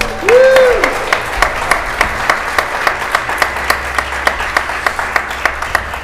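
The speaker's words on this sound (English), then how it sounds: "please, if you keep the applause and the well wishes going for the quartet for today, we have Nick and Will and Tobias and Chris." Applause for a string quartet at the end of a live-streamed performance: a short voiced tone opens, then sparse, evenly spaced claps ring out near the mic, thinning to a slow, steady patter from a small audience.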